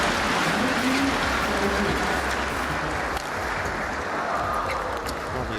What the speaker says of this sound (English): Applause you're hearing is actually for a mixed doubles match on court 2.